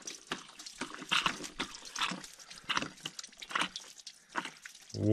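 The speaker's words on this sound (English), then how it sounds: "Water's running." Water from a garden hose splashes and trickles unevenly in irregular gushes and drips, moderately quiet, outdoors by a greenhouse and vegetable garden, with a low thump at the very end.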